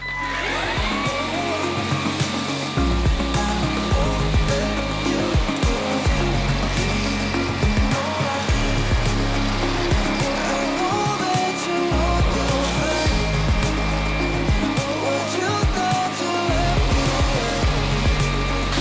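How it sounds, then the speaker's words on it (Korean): A Puppyoo T12 Pro Rinse cordless vacuum mop with a carbon roller and rotating wet mop runs in super mode, making a loud, steady motor whine with a whooshing roar that stays constant throughout. "슈퍼모드로 이 카본 롤러를 지금 장착했어요. 그래서 한번 사용해 볼게요."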